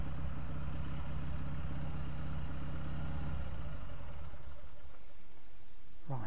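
A refurbished 1957 Douglas Dragonfly motorcycle engine runs with a low, steady throb that drops away partway through, leaving quieter outdoor ambience.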